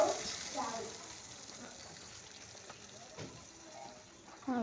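Salty water is poured into ambazhanga (hog plum) pickle sautéing in a pan, giving a faint, soft, continuous sizzle and bubbling with a few splashy bursts.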